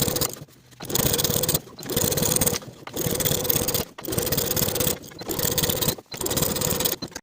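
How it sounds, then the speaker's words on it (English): A sewing machine top-stitches a jacket sleeve seam in repeated bursts of steady motor whir, each about a second long, separated by short pauses; close and fairly loud. "we're going to top stitch on the sleeve side with a 1/4 inch seam allowance"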